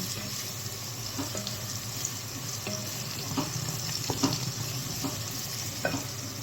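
Garlic and Maggi stock cubes go into hot oil in a pan, producing a steady, fairly soft frying sizzle with faint intermittent clicks of stirring throughout.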